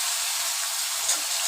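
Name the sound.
pabda fish frying in a pan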